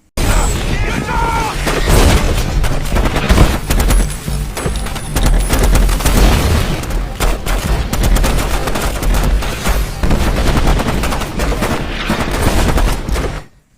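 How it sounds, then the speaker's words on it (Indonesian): Dense, continuous gunfire battle from a war film about a lieutenant's outnumbered squad, with rapid bursts and booms filling the scene loudly from start to finish amid faint voices. "Terjadi adegan tembak-menembak yang sangat seru dan sekaligus menegangkan"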